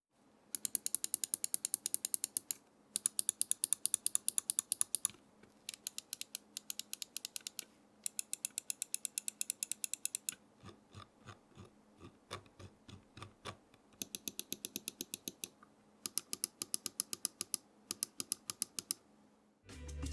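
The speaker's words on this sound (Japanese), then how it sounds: "ではマウスボタンのクリック音を聞いてみましょう。" An Xtrfy M42 gaming mouse with separate Omron mechanical switches is clicked repeatedly. Crisp, close clicks come in rapid bursts of a few seconds each, separated by short pauses, with some slower, spaced-out clicks partway through.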